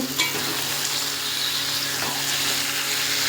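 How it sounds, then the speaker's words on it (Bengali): Goat meat for a thin curry, cooked without turmeric or salt, fries and is stirred in a pan, giving a steady close sizzle with a few soft scrapes, with no one talking. "মাংসটাকে এখানে এইভাবেই কষিয়ে দেবো আর কি"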